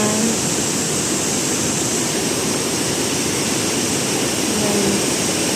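Pinoy Falls in Borboanan, a waterfall that roars as a dense, steady rush of falling water, loud and close, with no pauses and no talk over it.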